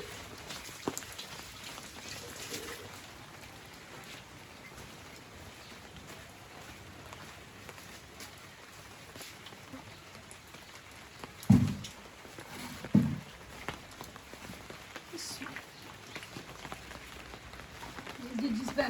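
Steady rain pattering on a village rooftop, a soft continuous wash with a couple of louder knocks or footsteps partway through, while a voice talks over it.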